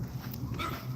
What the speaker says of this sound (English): Y'all hear my weenie dog, my little weenie dog friend barking?